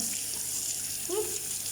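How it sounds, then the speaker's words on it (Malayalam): Water being sprinkled for washing makes a faint, soft splash around the middle of a quiet, hissy stretch of room sound. "ഫസ്റ്റ് നമ്മൾ വാഷ് ചെയ്യുന്നത് കുറച്ച് വെള്ളം തളിച്ച് കൊടുക്കാം"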